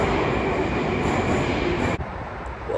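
Moscow metro train at the renovated Rizhskaya station, a loud steady rumble of wheels and rail noise filling the space, with a sudden drop in level near the end as the train passes or stops.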